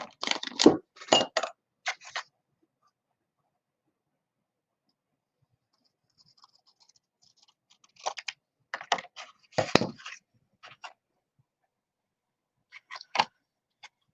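Paper being trimmed for a handmade mini album, a few short clustered bursts of cutting and handling, the first at the start and more in the second half, separated by near silence; no talking.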